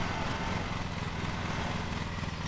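A lawn mower engine in Lawn Mowing Simulator runs as a steady, low, fairly quiet drone with no breaks, heard alone without voices.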